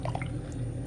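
A whole can of liquid poured into a pot for Jamaican-style oven-baked chicken with rice and peas: a short, close, wet splashing pour under a steady low hum.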